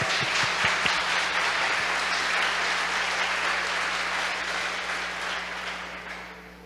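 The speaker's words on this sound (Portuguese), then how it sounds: "Vamos aplaudir o Senhor." A church congregation applauds the Lord during a sermon, a steady wash of many hands clapping at moderate distance that holds evenly and tapers slightly toward the end, with a low hum underneath.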